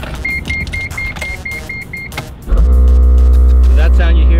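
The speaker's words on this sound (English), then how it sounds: "So that sound you hear is the air pump." Air pump pressurizing the air-shifted OS88 sequential gearbox in a Skyline GT-R, a loud steady mechanical drone that starts abruptly midway after a run of short repeated beeps, with talk in the background.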